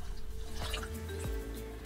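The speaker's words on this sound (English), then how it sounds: "Add the water." Water is poured into a pot of rinsed rice and quinoa, giving a steady liquid filling and dripping sound with small splashes, close and fairly quiet throughout.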